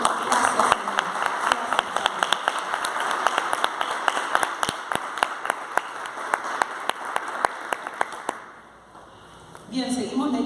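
A church congregation at a live worship service applauds with a crowd of clapping hands under sharp, loud individual claps, fading out near the end before a voice starts speaking.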